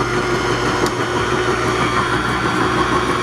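Honey extractor spinning a batch of frames, a steady loud mechanical whir with a fast rhythmic churning pulse and a continuous motor hum, alone without voices.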